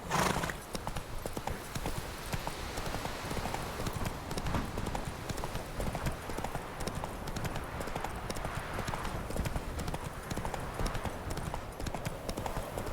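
Steady clip-clop of the horse Roach's hooves in The Witcher 3 video game, a brisk, even rhythm close up that runs continuously with a brief whinny near the start.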